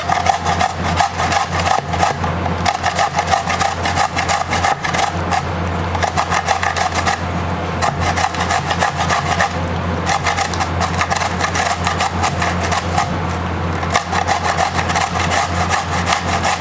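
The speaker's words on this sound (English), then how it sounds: "And now we'll go about grating our zucchini." Zucchini rubbed against a grater with unpeeled skin, a steady continuous rasping scrape that keeps going loud and close without pause and without talk.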